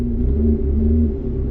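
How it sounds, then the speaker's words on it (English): A 2020 Lotus Evora GT exhaust rumbles low and steady from inside the cabin, a deep droning tone that swells slightly and holds with no talk over it. "That exhaust sounds amazing."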